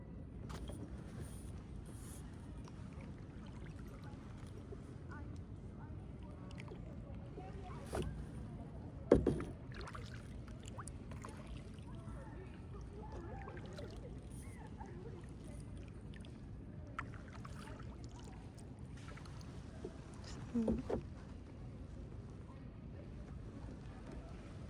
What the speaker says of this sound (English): We're kayaking.